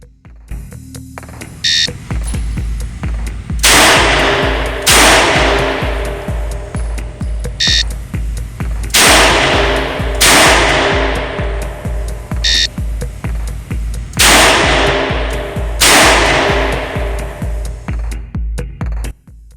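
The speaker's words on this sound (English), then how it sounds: "On command, fire 2 rounds in 2 seconds and assume the ready position." Colt MKV Trooper revolver fired at an outdoor shooting range: three pairs of loud, sharp shots with echoing decay, close to the microphone, over a steady background of electronic beeping tones and no talking.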